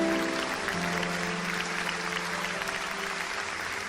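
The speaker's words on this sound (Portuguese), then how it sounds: "Você pode aplaudir ao Senhor pela vida desses irmãos." Church congregation applauding, a dense, steady wash of clapping from many hands that holds throughout, with a faint tonal hum of music beneath.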